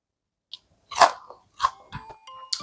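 Close bites and crunchy chewing on a crispy pan-fried mung bean pancake (bindaetteok), several separate crunches spaced over a couple of seconds in a quiet room.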